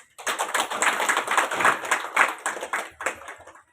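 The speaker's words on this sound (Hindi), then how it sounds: "ये ताली इसलिए बजा रहे हैं क्योंकि कार्ड बनवा लो।" Audience at a government awareness meeting applauding for the government, a dense burst of many hands clapping close by that keeps up steadily for a few seconds before thinning out near the end.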